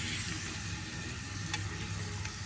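Water streams through hair to rinse out vivid hair colour at a salon basin, a steady, close hiss of spray running without pause.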